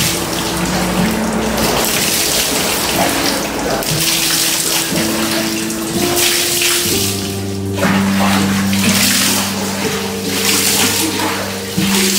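Mosque water poured over someone's hair, a loud continuous splashing gush of water running for several seconds, with steady tones beneath and no clear talk.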